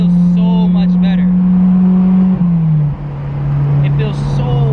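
Boosted Honda S2000 fitted with a J's Racing exhaust cruises with a steady, droning exhaust note heard from the cabin, the pitch easing down as it shifts, while someone talks over it.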